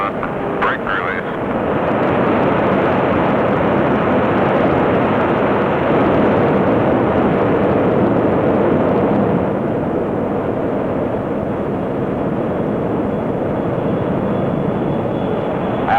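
An XB-70A Valkyrie's jet engines on the takeoff roll, a loud, continuous, dense roar that holds steady for the whole stretch with no talk over it.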